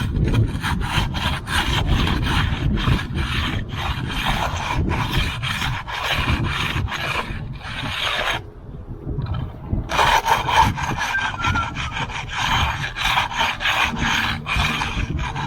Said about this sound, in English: Okay, so that's how we put our control cuts in.